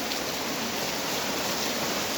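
Steady night rain falls in a dense, even hiss, close and continuous for the whole stretch, with no voices over it.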